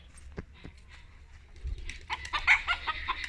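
Chickens on a farm at morning release, with soft scattered clucks early and then a busier burst of clucking and squawks, fairly quiet and close.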